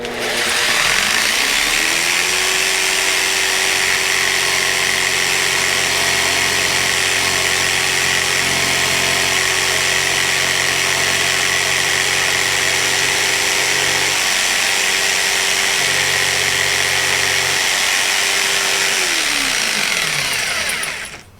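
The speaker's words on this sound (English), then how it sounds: "we're going to do that with the jigsaw" A jigsaw saws through subway tile for about twenty seconds, a loud steady motor whine that holds one pitch from start to finish and winds down at the end of the cut, with no talking.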